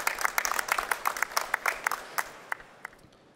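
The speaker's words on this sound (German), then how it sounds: "Ich darf einmal um einen kleinen Applaus bitten für unsere Panel-Teilnehmer." An audience at a real estate expo panel on logistics gives short applause for the panelists. Scattered, distinct claps start fairly briskly, then thin out and fade to a few isolated strikes before falling silent.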